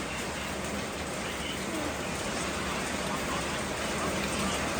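Rain falls in a dense, unbroken hiss at a rural home, loud and constant throughout with no clear individual drops and no talking over it.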